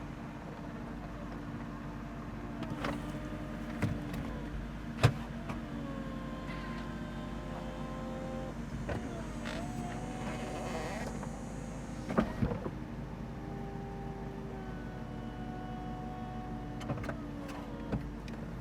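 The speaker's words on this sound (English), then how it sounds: "Let me show you how to take the top down." An electric motor lowers the convertible roof of a car, likely a 2014 Maserati GranTurismo or 2008 Aston Martin Vantage, as a steady hum that changes pitch through the cycle, with a few mechanical clunks and a faint voice underneath.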